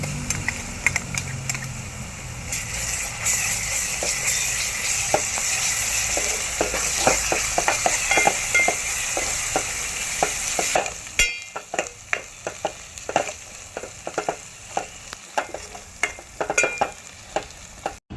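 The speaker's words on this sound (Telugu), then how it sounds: "అల్లం వెల్లిపాయ పేస్ట్ వేసి వేయించుకోవాలండి" Ginger-garlic paste frying in oil with browned onions for a spicy mutton curry: a steady, close sizzle broken by repeated sharp spatula scrapes and clicks, quieter but still crackling in the last stretch.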